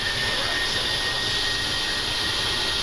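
Boeing 737 jet engines spool up to takeoff thrust, heard from the cockpit as a steady, loud, even roar with a high whine.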